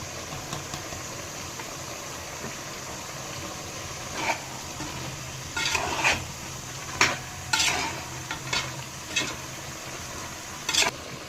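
Chicken simmers in masala paste in a pan with a soft, constant sizzle, punctuated by scattered scraping stirs and light pan knocks at close range, with no talk.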